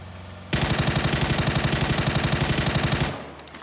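Sustained automatic gunfire in the battle royale game PUBG: one loud, continuous burst of rapid, evenly spaced shots lasting about two and a half seconds, then cutting off into quiet.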